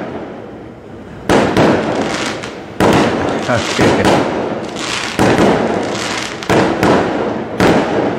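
Fireworks burst in loud, sharp volleys, several crackling explosions in a row with brief gaps between them, while a voice speaks briefly.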